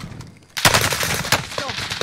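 Gunfire in Call of Duty on Rebirth Island: a quiet lull, then sudden loud bursts of automatic fire that keep up with sharp cracks. A voice talks briefly underneath.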